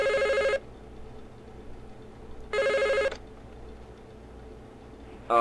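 A telephone in the horror game Five Nights at the Krusty Krabs rings in two distinct bursts about two seconds apart, each a short electronic trill, with a third starting at the end; the room is otherwise quiet.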